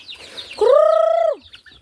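A single drawn-out squawk from a chicken, loud and near, rising sharply then holding steady before dropping off, preceded by faint scratchy noise.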